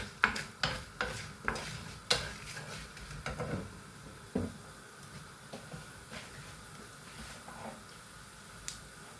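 Spices and garlic frying in sunflower oil for a Kerala-style chickpea masala curry, a soft sizzle under repeated scraping stirs of a spoon against the pan, steady and close with no talk.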